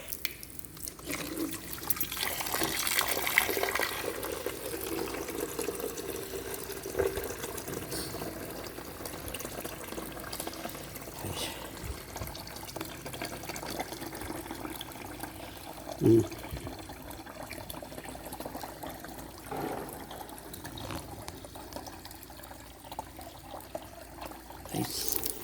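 Tap water runs steadily into a sink for washing mopheads, a continuous hiss and splash with a few drips and small knocks, moderately close and without talk.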